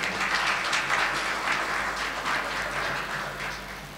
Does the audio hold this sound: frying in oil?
no